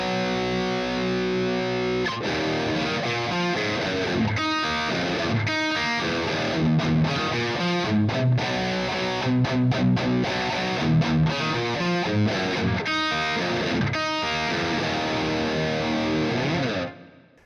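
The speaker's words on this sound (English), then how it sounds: "we've got two variations, a classic plate and a studio plate" Electric guitar played through an Empress Reverb pedal on classic and studio plate settings, with dense strummed chords and single notes washing into a smooth, bright plate tail, loud and continuous with no talking.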